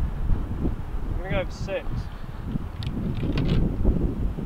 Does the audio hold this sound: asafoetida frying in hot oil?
no